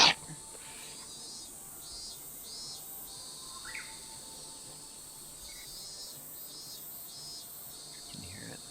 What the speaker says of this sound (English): You can hear it, the cicada is going.